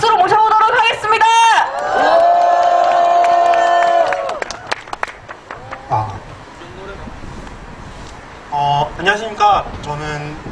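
At a candlelight rally in Gyeongju calling for President Yoon's resignation, a crowd cheers and applauds to welcome a student speaker, loud and sustained for several seconds before fading into scattered claps and murmurs, with a voice near the end.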